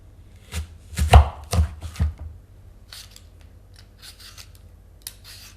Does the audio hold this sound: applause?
no